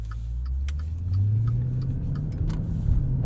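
A 2021 Maserati SUV accelerates to resume speed, its engine hum rising steadily in pitch. The sound is a moderate, continuous drone heard from inside the car, with no talking.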